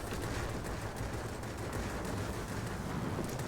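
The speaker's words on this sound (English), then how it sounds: "Somehow my cannon missed all those shots" Rapid, continuous aircraft cannon fire from a Yak-9 in World of Warplanes, rattling without pause, dense and loud, like an automatic gun firing in long bursts.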